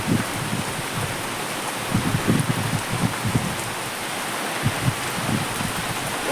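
Heavy rain pours steadily over an open village field, a dense even hiss of drops with a few louder splashes on nearby surfaces and no voices.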